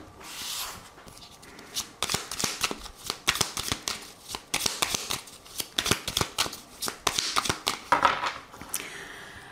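A deck of cards riffled and cut in close, crisp bursts of flicking and snapping, with rapid clicking runs repeating through the stretch and no voices.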